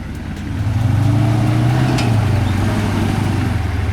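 A 4WD vehicle's engine hums and rises as it crawls over rocks on an NSW off-road track, a steady close rumble that swells after a quiet start.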